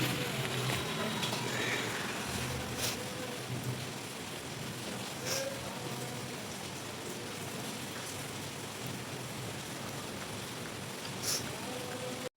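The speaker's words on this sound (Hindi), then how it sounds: "और बारिश हो रही है" Heavy rain falls steadily with a dense, even hiss that carries throughout, and a few faint clicks and drips stand out briefly.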